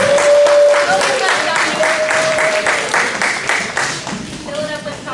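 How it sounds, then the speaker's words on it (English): An audience at a primary school parent orientation claps for a presenter, a loud, dense round of applause with crowd murmur and a high tonal whistle-like sound over it. "Give Dominic a round of applause."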